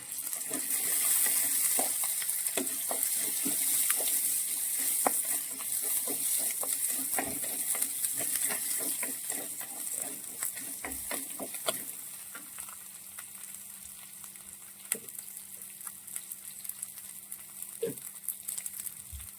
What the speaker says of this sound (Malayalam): പച്ചമുളക്, ഉള്ളി, അതുപോലെ തന്നെ കറിവേപ്പില, ഈ മൂന്നും കൂടിയിട്ട് നന്നായിട്ട് വഴറ്റാം